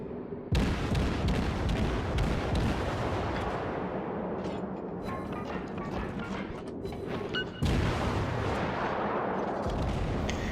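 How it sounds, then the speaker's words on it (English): A Japanese Kuma cruiser in World of Warships fires naval artillery salvos, two loud booming blasts with long rumbling tails, one at the start and one near the end, with distant gunfire crackling between them. "the Kuma fires a devastating salvo into the target, destroying multiple gun turrets and then the ship itself"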